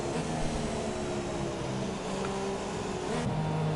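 Formula 1 cars in F1 2017 on a formation lap at the Japan round, a steady engine drone with shifting tonal whine, loud and continuous, no talk.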